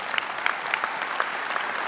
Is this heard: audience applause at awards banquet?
yes